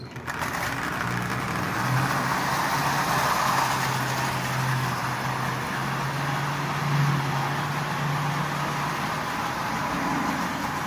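A Marx 490 toy train with a double reduction motor, fitted with front and rear trucks, runs steadily around the track, giving a continuous close mechanical hum and whir that holds at a fairly even level throughout.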